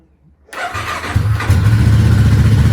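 A Voge 500DS motorcycle engine cranks and catches after silence, stumbling briefly before settling into a loud, steady idle close by, with no talk over it.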